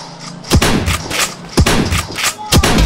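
Gunfire in the multiplayer video game Dude Theft Wars: three loud, sharp shots spaced about a second apart, each with a ringing metallic tail, close and alone.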